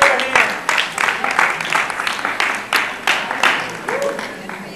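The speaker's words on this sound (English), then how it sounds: "Clap it up!" An audience at a school assembly on healthy relationships claps in rhythmic bursts, with a loud voice over the clapping and the room noise rising and falling in a steady pulsing pattern.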